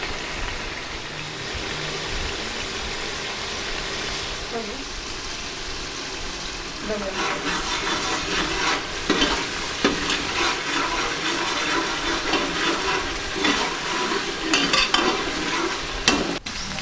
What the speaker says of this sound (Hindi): अच्छे तरीके से मिक्स करेंगे। अच्छे तरीके से भुनेंगे।